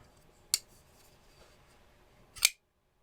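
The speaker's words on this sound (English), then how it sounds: "I always talk about the noise on the Socom Elite." A Microtech Socom Elite manual folding knife gives two sharp metallic clicks about two seconds apart, close and crisp against a quiet background, with the second click louder.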